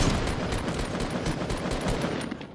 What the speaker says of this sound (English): I'm heavy sniping out of this guy.